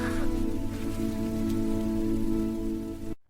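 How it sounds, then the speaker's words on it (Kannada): Rain falls steadily in a forest, a dense close patter with a sustained tonal hum beneath, ending abruptly. "ಮಳೆ."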